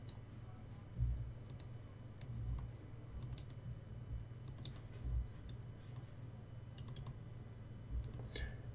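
A computer mouse clicks in scattered bursts, single and double presses at an irregular pace, close and quiet over a low background hum, while files are navigated on a PC.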